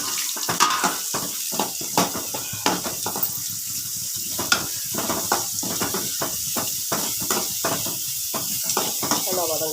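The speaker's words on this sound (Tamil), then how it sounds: "வெங்காயம் போட்டு நல்லா வதங்கணும்" Onions sautéing in a pan for a brinjal fry, a steady sizzling hiss with frequent sharp crackles and pops spread throughout, close and fairly loud, with no talking.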